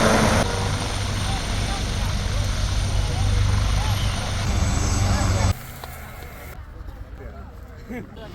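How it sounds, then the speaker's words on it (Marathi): Helicopter carrying a politician setting down at a village landing site, a loud, steady rotor and engine roar that cuts abruptly to a quieter background rumble partway through. "एकनाथ शिंदे साहेब उतरले आहेत त्यांच्या हेलिकॉप्टरवरून"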